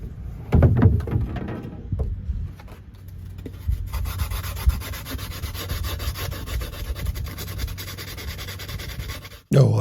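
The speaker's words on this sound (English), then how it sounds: "So we are using these 100 grit sandpaper" Steady rubbing of 100 grit sandpaper across model railway scenery, a continuous close scratchy hiss that starts after a few knocks and handling sounds and runs on evenly to the end.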